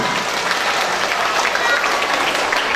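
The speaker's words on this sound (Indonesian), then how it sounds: "Tepuk tangan." Loud, dense applause from a crowd at a Quran school graduation ceremony in a village, steady and continuous for a few seconds.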